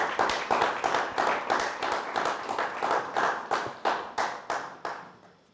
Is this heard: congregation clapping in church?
yes